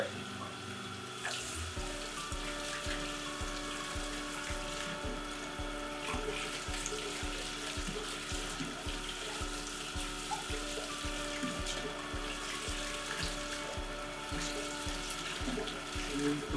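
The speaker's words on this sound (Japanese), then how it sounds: "それをぬるま湯できれいに洗い流していきます" Lukewarm tap water runs steadily into a sink as cut frozen tuna is rinsed of saw debris, a continuous faint splashing flow with a low rhythmic pump-like hum beneath, no voices.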